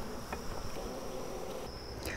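Honey bees buzzing around an open hive, a faint steady hum with an outdoor insect drone, no voices.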